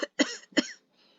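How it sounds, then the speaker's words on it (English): Two hard, close coughs in quick succession, followed by a faint breathy trailing sound, with silence between. "Damn, that's a good cough."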